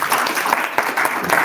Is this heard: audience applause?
yes